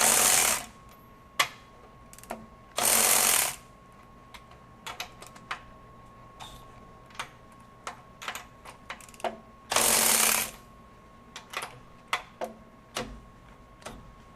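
A DeWalt DCF510 20V sealed-head cordless ratchet run in reverse at a 10 foot-pound setting: short whirring motor bursts alternating with sharp, irregular ticking clicks, close and distinct.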